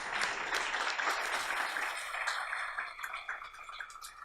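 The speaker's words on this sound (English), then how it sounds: "Yeah, give him a round of applause." A round of applause for Howard Zemsky of Empire State Development at the Play NYC 2017 opening remarks: a crowd claps steadily at moderate loudness, then gradually thins into scattered, sparser claps near the end.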